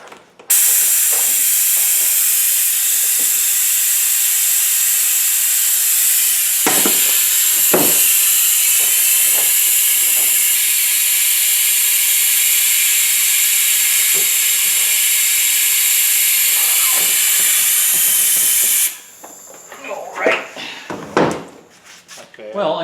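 Old fuel being sucked out of an Arctic Cat ATV tank, a steady loud airy hiss running unbroken for nearly twenty seconds with occasional clicks and knocks, then stopping abruptly into clatter.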